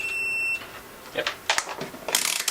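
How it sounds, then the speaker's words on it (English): A multimeter gives a steady continuity beep lasting about half a second while a fuse in an Onkyo TX-8211 receiver is tested, followed by clicks and handling noises from the probes. "let's just check this with the multimeter."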